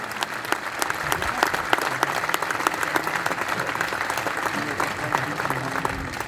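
A concert audience applauds steadily and loudly throughout, with dense clapping filling the hall and no gaps.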